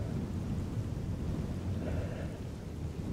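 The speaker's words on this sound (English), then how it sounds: "It's raining, storm is coming." A thunderstorm with rain gives a dense, steady wash of rainfall and low, rumbling noise, constant and moderately loud with no voices.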